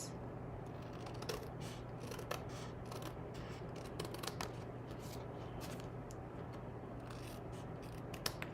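Scissors snipping through card stock along its edges, quiet close crisp cuts repeating in an irregular rhythm over a faint steady hum.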